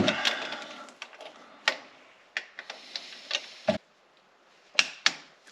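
Ratcheting and clicking of a wrench on BMW X3 or X5 transfer case bolts, a series of close, sharp irregular clicks with short pauses between them.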